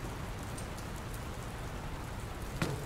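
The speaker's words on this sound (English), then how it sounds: "I don't think it's supposed to still be raining" Steady rain pours down in the video game The Terribly Cursed Emerald: A Whirlwind Heist, a continuous even hiss with one brief louder thump near the end, no voices.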